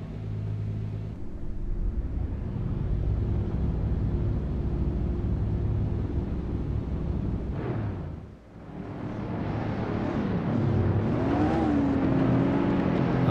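Race cars idle and rev on the grid at Imola in Assetto Corsa, GT3-class machines droning in a dense, loud engine rumble, dipping briefly before pitch-rising revs swell as the start approaches.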